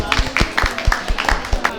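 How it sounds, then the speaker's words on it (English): An audience claps at a student cooking competition, a short burst of applause at fairly close range with a loose, uneven rhythm and a voice faintly under it. "So let's do a round of applause for that."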